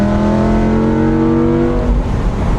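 Lamborghini Gallardo Spyder engine revving loud and close, a sustained high mechanical howl holding steady for about two seconds before the tone drops away, with no voices over it.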